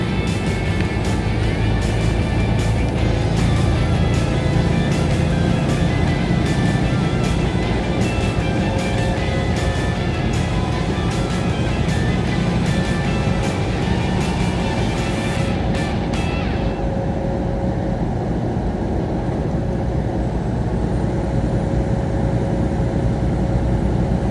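A truck engine drives steadily along a road at speed, a loud, continuous drone with road noise that holds throughout; a faint clicking pattern runs over the upper range in the first part before fading away.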